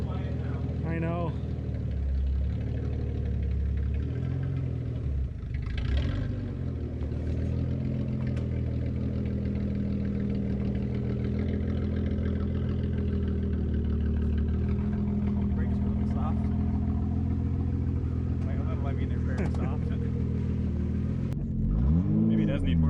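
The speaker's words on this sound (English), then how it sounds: "Maybe it does need more RPM than idle." A Datsun 280Z engine with adjusted ignition timing rumbles steadily at idle, then rises into a short rev near the end, with people talking over it throughout.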